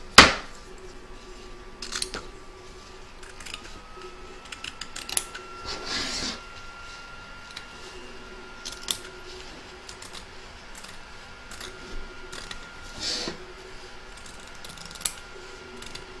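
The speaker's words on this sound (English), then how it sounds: "Trim away the excess fabric from both the front and back of your hoop" Scissors trim excess fabric from an embroidery hoop, giving soft, intermittent snips and small mechanical clicks at close range, quiet with no talk.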